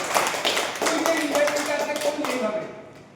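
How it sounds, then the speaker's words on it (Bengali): Loud applause from a group at a talk on careers and invitations, a dense burst of clapping with voices mixed in that carries for a few seconds before tapering off. "ওদের একটা জোরে হাততালি হয়ে যায়।"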